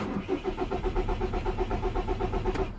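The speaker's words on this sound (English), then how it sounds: "Let's gonna start the engine, make sure it starts okay." A Volkswagen Golf 1.9 TDI diesel (BXE engine) runs after being started following camshaft timing adjustment, giving a steady, close, rhythmic diesel clatter with even pulses throughout and no talk.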